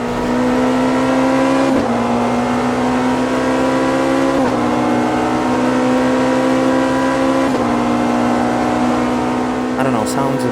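A loud race car engine in the video game Automobilista 2, heard from inside the cockpit, drones steadily at high revs, its pitch dropping briefly at each of several gear shifts.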